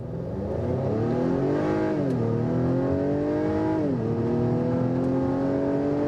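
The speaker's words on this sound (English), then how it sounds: "Let's give it some revs." A 2021 Acura TLX four-cylinder engine revs up and down repeatedly, rising in pitch, dropping, then climbing again in a steady, loud, close drone.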